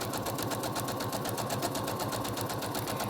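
A sewing machine runs steadily, stitching a quarter-inch seam along a folded fabric edge on a tote bag, a fast even mechanical chatter that is close and continuous without pause or voices.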